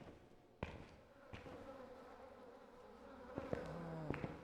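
Flies buzz faintly in a morgue room in the video game Phasmophobia, a thin droning hum beneath sparse sharp knocks and taps in an otherwise quiet space.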